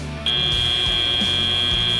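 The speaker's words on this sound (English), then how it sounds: "And we are at the buzzer." At a 2025 FTC robotics tournament, the end-of-match buzzer blares as one loud, sustained, steady tone that starts abruptly and holds to the end over arena background noise.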